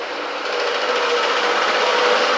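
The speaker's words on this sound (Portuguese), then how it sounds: "Passando a motosserra aqui." A chainsaw runs continuously close by, a steady loud buzzing drone that holds without pause and swells slightly as it passes.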